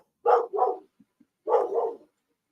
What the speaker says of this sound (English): Sorry if y'all can hear my dogs.